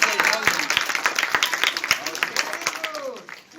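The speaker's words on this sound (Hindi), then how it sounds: "ताली बजाओ जोर से।" Outdoor crowd clapping at a December 6 memorial gathering for Ambedkar's death anniversary, a dense patter of hands with voices mixed in throughout, tapering off near the end.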